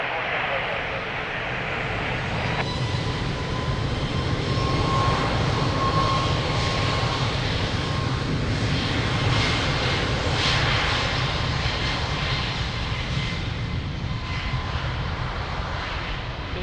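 Airliner engines idle and rumble steadily at Lisbon Airport as the aircraft holds short of the runway for takeoff, a continuous loud broadband roar with a faint whine, while radio and commentary voices talk over it.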